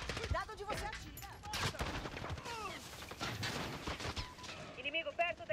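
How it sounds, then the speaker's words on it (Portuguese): Gunfire in Call of Duty Modern Warfare 2019 multiplayer: rapid bursts and single shots crack repeatedly throughout, dense and loud, with announcer voice callouts and chatter mixed in among the shooting. "Estão atirando em mim"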